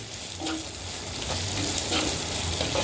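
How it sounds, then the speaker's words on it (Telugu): Ginger garlic paste frying in a pan, a continuous close crackling sizzle with small bursts of pops and a few stirring scrapes, and no talking. "ఈ అల్లం వెల్లుల్లి పేస్ట్ కూడా చక్కగా ఫ్రై అయిందండి"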